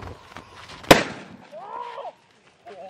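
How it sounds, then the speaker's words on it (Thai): Four dragon egg firecrackers tied together go off in one sharp, loud bang with no echo. Afterward comes a short hiss, then a brief voice, all heard outdoors at close range. "แล้วเราจะมัดรวมกันแบบนี้นะครับแล้วเราจะจุดมันทีเดียวเลยนะครับ4ลูกนะครับเดี๋ยวเราไปดูเลยครับว่ามันจะระเบิดแรงแค่ไหน"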